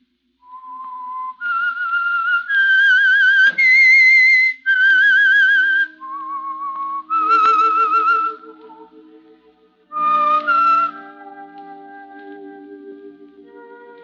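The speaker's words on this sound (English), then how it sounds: "That whistle is your signal for the Signal Oil program, The Whistler." The whistled theme of the 1946 Signal Oil radio mystery program The Whistler: a lone, eerie melody of sustained and gliding notes with heavy echo, rising and falling and then fading away, with no voices.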